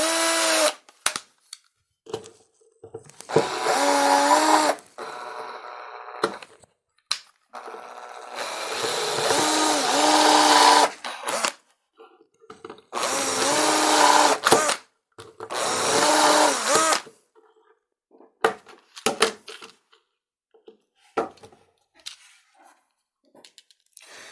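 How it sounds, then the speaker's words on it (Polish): A cordless drill whines in several bursts of a few seconds each, drilling out the rivets of a combined circuit breaker casing, with pauses and small knocks and clicks in between. "Posłuży nam do tego wkrętara, wiertełko, rozwiertam wszystkie nity"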